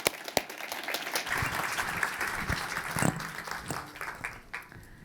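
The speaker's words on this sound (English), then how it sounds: "Big round of applause." An audience at a talk on monetary policy and the housing market applauds as speakers are welcomed onstage, a sustained, moderately quiet wash of clapping with a few sharper claps standing out.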